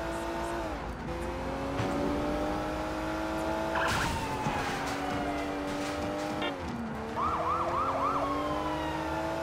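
A Hong Kong police car siren wails in the Sleeping Dogs Year of the Snake game, rising and falling tones over a constant engine drone, with a quicker warbling burst near the end.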